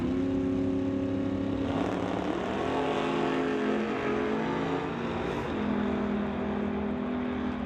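An 81 Malibu and a 55 Chevy drag racing at Mission Raceway in a loud, sustained roar of high-revving engines, with pitch rising and dropping through gear changes and no voices heard.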